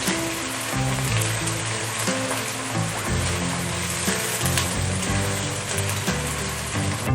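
Garlic paste and spices frying in hot oil, a dense continuous sizzle and crackle like rain on a surface, close and steady throughout with faint tonal music underneath and no speech.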